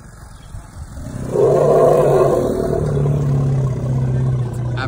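Cars pass nearby, a steady mid-pitched engine and tyre roar swelling after the first second and holding loud to the end, with no talking.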